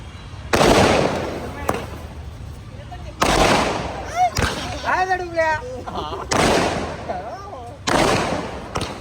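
Several loud firecracker bangs burst at irregular intervals on the eve of Eid in Kerala, with people talking and shouting between the blasts.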